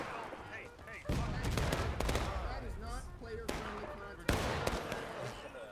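Pistol fire from cavalry in War of Rights, a Civil War battle on Nicodemus Hill: sharp cracks ring out amid a dense, chaotic din of distant musketry and battlefield noise, with two louder reports standing out.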